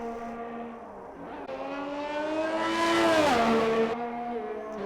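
A race car engine at Jeddah in a sim racing game, loud and close, revving up through the gears in a rising whine that peaks, drops on a shift, then holds steady, with no talking.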